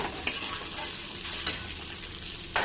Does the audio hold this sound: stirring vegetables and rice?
yes